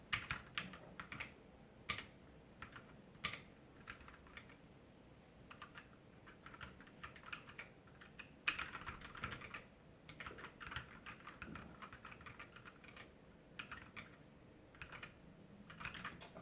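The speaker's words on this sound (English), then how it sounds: "First keystrokes feel pretty good." Rapid, irregular key clicks come from typing on a Moonlander mechanical keyboard, a steady flurry of close, light taps with brief pauses, no voices over it.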